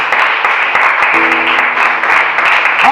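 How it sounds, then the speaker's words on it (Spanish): A church congregation claps in a dense, steady patter throughout, with a brief sung or spoken tone faintly underneath. "Den un fuerte aplauso al Señor Jesucristo"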